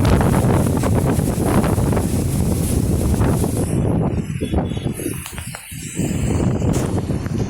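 Strong wind blows past a marble temple where a flag flutters, a loud, steady roar and buffeting against the microphone that eases off for a couple of seconds midway before rising again.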